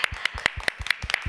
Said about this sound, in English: And one more hand of applause.